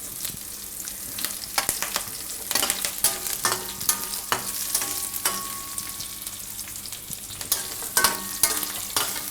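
Green chilies hit a hot pan where cashews are roasting, giving a steady close sizzle broken by frequent sharp scraping clicks of stirring, with no voices.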